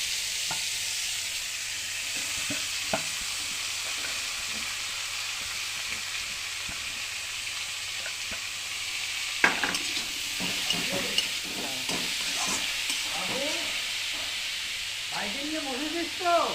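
A fish head frying in a yellow-stained wok previously used to fry cauliflower, hissing steadily as it is stirred, with a continuous sizzle and scraping clinks picking up midway.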